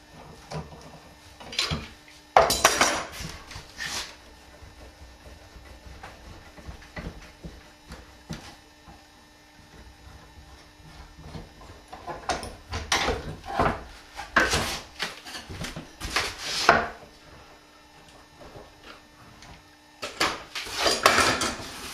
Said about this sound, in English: Okay, let's take the clamps off.